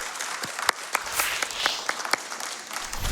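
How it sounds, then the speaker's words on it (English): An audience at the Summer Games Done Quick 2022 speedrun event claps steadily, individual sharp claps standing out against a soft wash of applause that fades slightly toward the end. "Let's give him one more round of applause, y'all."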